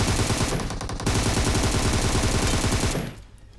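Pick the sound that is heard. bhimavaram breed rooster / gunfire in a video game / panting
gunfire in a video game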